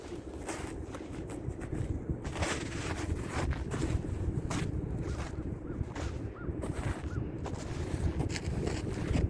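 Wind blowing outdoors on a disc golf course into a headwind, buffeting the microphone in a steady, loud rush of rumbling gusts with no pauses.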